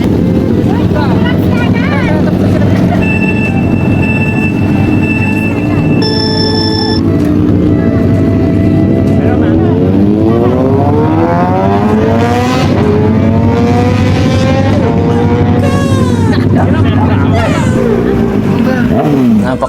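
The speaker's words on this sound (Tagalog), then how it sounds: "Napaka-solid talaga ng tunog ng CX-6R." A Kawasaki ZX-6R sport motorcycle revs loudly and close on a test ride, with a steady idle drone, then rising and falling engine sweeps that climb sharply in pitch before settling back down.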